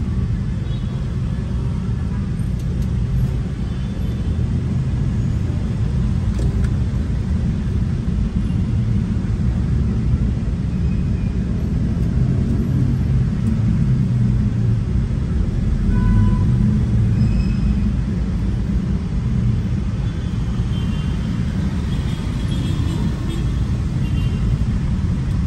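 Dense, idling city traffic on Jl. A.P. Pettarani in Makassar, a steady low rumble of engines close by with no breaks, carrying on for the whole stretch.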